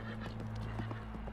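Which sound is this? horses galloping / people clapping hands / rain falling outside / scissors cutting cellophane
horses galloping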